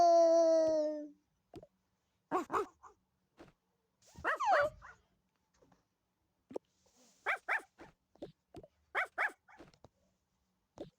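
Cartoon dog in a Toca Boca video game, a soft whimpering whine at first, then scattered short barks and yips spread across the clip, fairly faint with quiet gaps between them.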